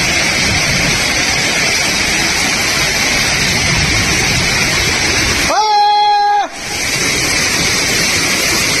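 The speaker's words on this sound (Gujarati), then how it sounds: "આ પાણી પાછું વહી ગયું હજી જો હજી વહી ગયું" Floodwater rushing through a street during heavy rain flooding in Junagadh, a loud continuous roar of moving water close by, with a vehicle horn sounding briefly and voices talking underneath.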